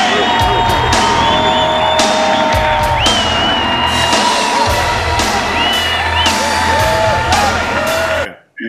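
A crowd at a bodybuilding show cheers, whoops and shouts loudly and steadily for the whole stretch before it cuts off abruptly.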